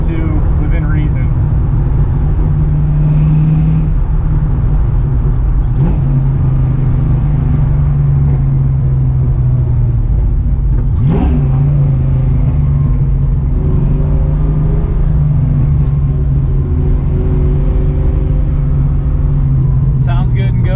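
Engine of a 1968 Ford Mustang California Special droning steadily from inside the car while driving, a low continuous rumble throughout, with people talking over it.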